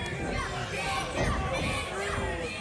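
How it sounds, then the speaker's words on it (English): Arena crowd at an Appalachian Championship Wrestling live show cheering and shouting for the wrestler Ninja, a dense, steady roar of many voices with excited yells rising throughout. "The crowd getting behind Ninja."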